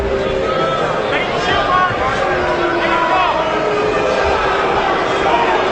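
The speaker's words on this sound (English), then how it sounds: "Crowd getting a little unruly." Unruly arena crowd at an MMA fight between Lyoto Machida and Vernon White, a loud steady roar of mixed shouting and jeering that fills the space, with commentators talking over it.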